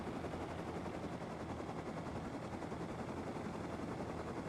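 A helicopter in the video game Rust lifts off with a dense, rapid rotor thudding and engine roar, steady and moderately quiet throughout, with no talking.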